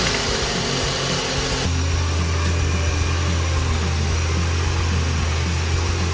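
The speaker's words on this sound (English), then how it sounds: "Now we start the car up, turn the AC on," A car engine idles steadily with the air conditioning running, a low constant hum and drone holding even throughout with a brief change in tone near the start.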